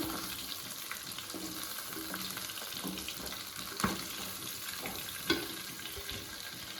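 Steady crackling sizzle of chicken pieces frying in a pan, continuous and close, with a couple of sharper pops and clinks along the way.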